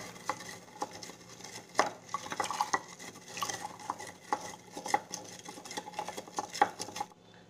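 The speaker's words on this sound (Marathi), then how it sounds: "थोडंसं आपण मिक्स करून घेऊया." Rock salt being stirred into a container of water for preserving mangoes and vegetables, giving a steady run of soft scraping and clinking spoon strokes at close range with no talking.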